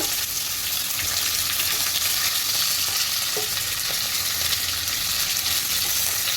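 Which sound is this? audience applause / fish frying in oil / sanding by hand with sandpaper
fish frying in oil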